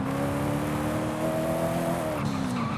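A 2016 Koenigsegg Regera hypercar in Forza Horizon 5 drones at high, steady engine revs in one gear, loud and close, tapering off near the end with a brief squeal of tires.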